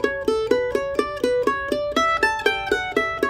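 Mandolin picks out the Cuckoo's Nest melody in a steady run of single plucked notes stepping up a scale pattern, each note ringing briefly before the next, close and clear with no talking.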